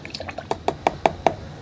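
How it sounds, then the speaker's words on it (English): A water bucket from a watercolor painting session gives a run of sharp knocks and drips, about five evenly spaced taps in quick succession, close and fairly loud with no voices. "That's my water bucket there."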